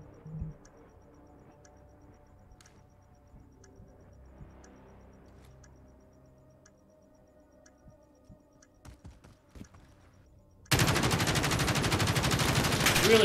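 Gunfire from a competitive shooter match: scattered faint clicks and shots for ten seconds, then a sudden loud, sustained burst of rapid fire to the end.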